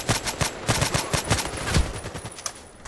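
Rapid gunfire from an SVU-AS rifle in the shooter game Contract Wars, a dense string of sharp close shots in quick bursts across the whole stretch, loud and with no talk over it.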